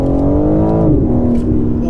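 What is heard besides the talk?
BMW M4 Competition xDrive accelerating, exhaust sound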